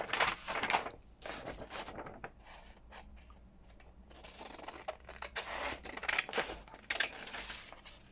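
Scissors snip and scrape around paper ephemera for a woodland flower fairy junk journal project, a few close, crisp cutting bursts separated by short pauses.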